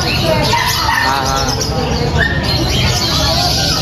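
Birds squawk and chirp at a pet market stall, sharp repeated calls rising over a busy hubbub of voices and market noise.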